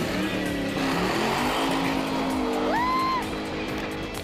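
A small front-wheel-drive turbo car pulls hard off the line, its engine note rising loudly and steadily with a brief tyre squeal and a gear change partway through, close and continuous throughout.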